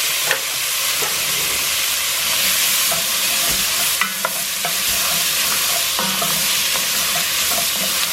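Onions and vegetables fry loudly in a pan, a dense, steady hiss broken by scattered scrapes and taps as they are stirred.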